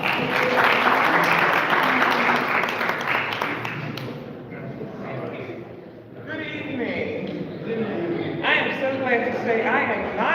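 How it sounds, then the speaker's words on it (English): A live audience claps for a judge introduced at a candidates' meeting, broad sustained applause with cheering over it that fades midway and then swells again, fairly near and loud. "let's give her a round of applause"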